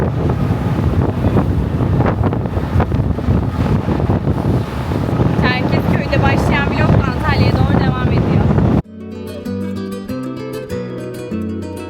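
Wind buffets the microphone over the rushing water and engine drone of a ferry at sea near Çanakkale, then music abruptly takes over.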